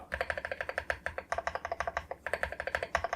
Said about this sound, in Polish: No i posłuchajcie sobie dźwięków. Spacja.